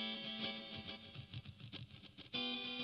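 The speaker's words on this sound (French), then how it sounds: "Plus j'augmente l'envoi du Master 1 de cette piste, plus il y a de la reverb." A Korg Pa700 arranger keyboard plays a sustained, bright chord texture with its Master 1 reverb send turned up, giving a washy, lingering tail; it ends with a louder, fuller chord near the end, with no talking.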